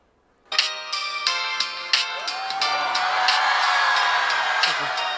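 A ringtone melody plays from a slide mobile phone of the mid-2000s, a run of bright repeated tones building into a sustained tune, loud and close, with faint crowd noise in the background.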